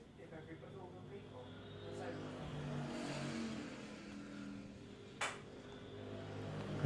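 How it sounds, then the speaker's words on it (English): Senior Pro Kart racing karts pass by at a sprint series race, their high engine notes rising and falling as they come past, with a sharp clank near the end and commentary voices underneath. "I'd just gone quiet so I could listen to the pro karts coming past me."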